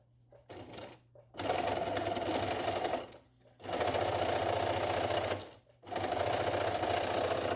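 A serger overlocks back over existing seams on a fabric face mask in three loud, sustained whirring runs with brief pauses between them, preceded by a short stuttering start.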